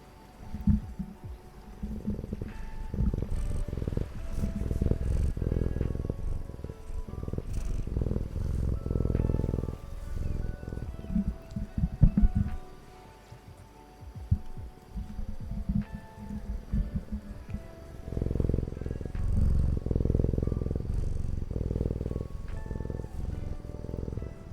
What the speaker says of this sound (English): Oh, he's purring so hard.